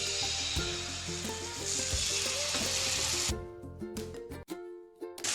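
Sweet pudla batter of the monsoon-style Gujarati kind sizzles loudly in about five spoonfuls of ghee on an iron griddle, a steady close frying hiss that drops abruptly partway through to a quieter crackle with a few sharp clinks.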